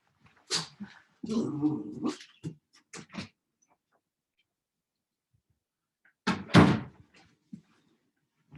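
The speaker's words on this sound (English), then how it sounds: "Sorry, my dog, 1 second. Let me let him out." A pet dog and a household door as the dog is let outside: scattered knocks, scuffs and a brief low growl-like rumble, then a sharp clatter of the door after a quiet pause.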